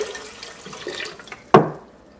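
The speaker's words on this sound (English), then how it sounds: "So I'm gonna pour in a little, roughly" Water is poured into a pot to be brought to a boil for making muscadine grape wine. A soft trickle runs first, then a sudden loud splash lands as the pour hits the pot and quickly fades.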